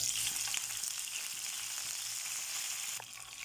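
Curry leaves sizzling in about two tablespoons of hot coconut oil, a bright, steady hiss of frying close by, easing slightly near the end.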